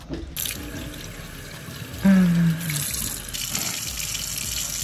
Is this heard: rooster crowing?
no